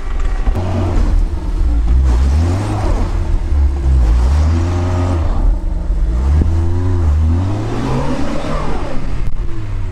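A Lada Niva stuck in mud and snow revs hard with its tires slipping, the engine loud and close, rising and falling in repeated surges as the driver rocks the car.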